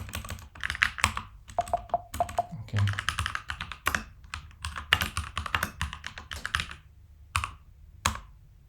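Quick bursts of typing on a computer keyboard sound close and crisp, with clustered key clicks separated by short pauses.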